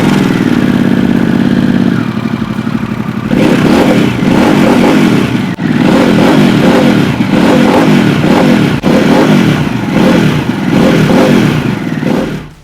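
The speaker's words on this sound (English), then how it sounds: "good friend Wade Polson, thank you for that, leading us up into this high level Scorpion exhaust system. Sounds absolutely superb." Harley-Davidson Pan America S breathing through a high-level Scorpion exhaust system: a loud idle that drops briefly, then a run of sharp throttle blips and revs with deep pulsing rumble, close and alone.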